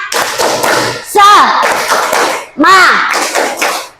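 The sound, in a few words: class doing a rhythmic spirit clap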